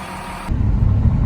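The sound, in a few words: fire truck engine on a city street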